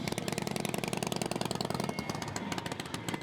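A motorcycle engine runs in a steady, fast-pulsing rumble, held close and even for a few seconds in summer riding conditions, with a slight shift in tone near the end and no voices over it.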